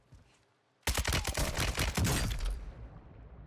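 Rapid gunfire in Call of Duty on the Al Mazrah map, a sudden loud burst of automatic shots lasting under two seconds, then a fading tail after near silence.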